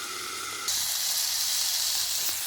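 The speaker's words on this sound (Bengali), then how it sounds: "দেখো চিচিঙ্গাটা আবার ভাজা করছি, ভাজা ভাজা করে দেবো।" Ridge gourd fries in a pan with a steady hissing sizzle that grows brighter and louder after a moment, with no talking.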